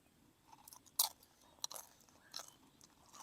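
Crispy pork skin being chewed close up produces sharp, irregular crunches and bites over a quiet background.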